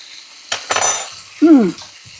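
A metal spoon clinks and scrapes against a pan while scooping a maple syrup and apple cider vinegar glaze, two sharp close knocks followed by a brief scrape, with a short burst of voice afterward.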